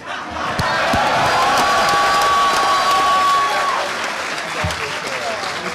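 Steady applause from a hacker conference crowd at a closing ceremony fills the whole stretch, dense clapping with a few cheers and a sustained tone riding over it.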